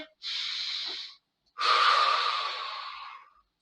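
Two breaths during an abdominal exercise, a short airy inhale followed by a pause and a longer, louder breath that slowly fades, close and alone with no talking.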